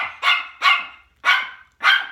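A little dog barks four times in sharp, evenly spaced yaps, loud and close, with short silences between each bark.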